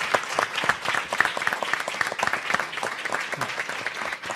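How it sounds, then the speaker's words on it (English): Audience applause at a conference's closing keynote, dense overlapping clapping from a sizable crowd that holds steady for the full length without fading. "So if we could give them a round of applause."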